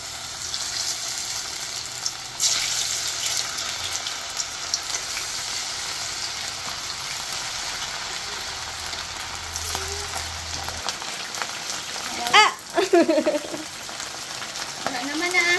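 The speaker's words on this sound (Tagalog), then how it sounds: "Tapusin ko lang na prituhin lahat yung ating mga chicken." Pieces of chicken fry in hot oil with a steady, bright sizzle that goes on throughout, with brief louder bursts of spatter and a faint clink of utensils near the end.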